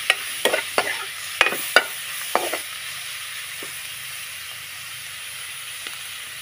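Shallots, garlic and kaffir lime leaves stir-frying in pork fat with a low hiss as a spatula scrapes and taps the pan several times early on, then settles into a quieter sizzle.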